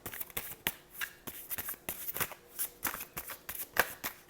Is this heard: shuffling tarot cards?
yes